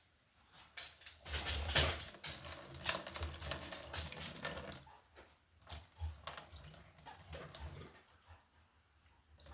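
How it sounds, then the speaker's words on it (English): Liquid marinade with apple cider vinegar being shaken and poured, a splashing, gurgling stream with sloshes and drips, close and uneven, tapering off toward the end. "I always shake my my liquids up before I pour them in."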